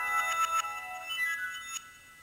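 A phone ringtone plays a short electronic melodic tone sequence, bright and clear, repeating a few quick notes before fading.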